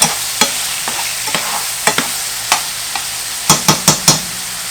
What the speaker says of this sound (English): when your bacon and your mushrooms are almost done, you want to throw in your garlic, 2 teaspoons, and let it cook again for about another 2 minutes